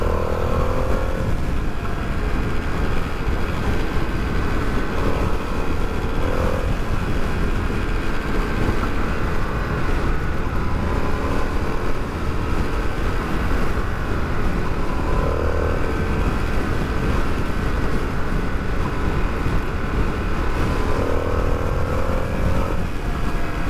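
An Indian FTR R Carbon motorcycle cruises in fourth gear at around 60, its engine a steady close drone mixed with constant wind rush and no talk.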